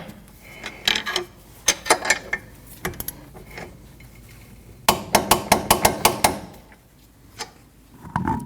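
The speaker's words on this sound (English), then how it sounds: "Now you want to torque your axle nut." A wrench tightens the rear axle nut on a 2003-2008 Subaru Forester, giving scattered close metallic clinks and knocks, then a quick run of sharp clicks midway before a few quieter taps.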